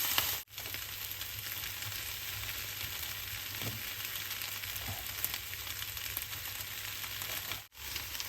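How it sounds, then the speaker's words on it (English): Onions and cut cabbage saute in avocado oil in a pan, giving a steady close sizzle and frying crackle that holds throughout, with a brief stirring scrape partway through and two short dips in the hiss. "Now I'm sauteing my vegetables. So first, put in my onions."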